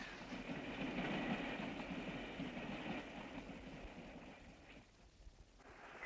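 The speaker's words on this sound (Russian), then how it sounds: "К третьей платформе прибывает поезд номер 43, Сочи, Москва." A train rolls in toward a station platform with a broad, steady rumble and faint clatter of the cars. The sound swells early, then gradually eases as the train slows, with no voices.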